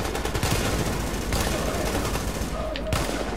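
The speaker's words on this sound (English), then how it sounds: "not really caring about the recoil on my gun there either. Merely shooting as much as I can." Sustained automatic gunfire in The Division, rapid dense shots rattling almost without pause and tapering near the end, with someone speaking over the firefight.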